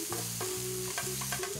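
Sausage and garlic fry in olive oil in a pan with a constant loud sizzle, broken by repeated scraping strokes as the mixture is stirred.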